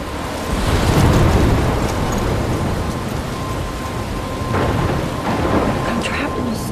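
Heavy rain pours steadily in the video game Life is Strange while low thunder rumbles and rolls loudly through the storm, swelling early and again near the end, with no voices.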